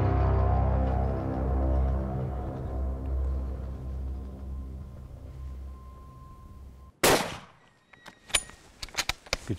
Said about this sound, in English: Good shot. Great shot